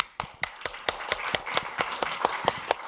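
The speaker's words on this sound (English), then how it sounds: "Applause!" Audience applause for volunteers coming up on stage at a talk, a thin, sparse run of individual claps at an even rhythm, fairly quiet and brief.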